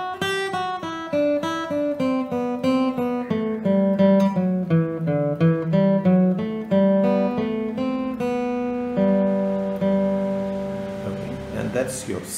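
An acoustic guitar plays a lively, steady run of Sailor's Hornpipe melody notes, moderately loud and close, with no voices.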